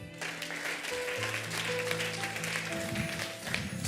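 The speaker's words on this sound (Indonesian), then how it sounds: "Tepuk tangan" Church congregation at an anniversary revival service clapping together, sustained applause mixed with sustained musical tones from an organ or keyboard underneath.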